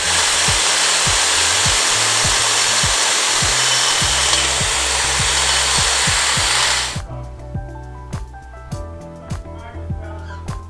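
Power grinding inside a cracked Tomei turbo manifold: a loud, steady, harsh grinding roar for about seven seconds, then it cuts out and leaves quieter metallic clanks and knocks.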